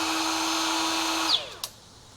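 Brushless power tool used as a die grinder alternative, running at its third speed setting: a steady high whine holding for over a second, then cutting off and spinning down, with a short click near the end.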